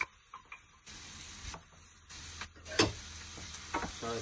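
Chopped apple goes into a pan of frying onions, bringing a faint steady sizzle with a few scraping clicks from stirring, quiet and without talk.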